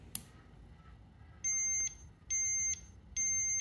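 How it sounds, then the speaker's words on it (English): A Gann BL B2 moisture meter taking a reading gives three evenly spaced, high electronic beeps, each about half a second long, clear over a quiet room hum, with a small click just before. "you'll hear that little beeping sound"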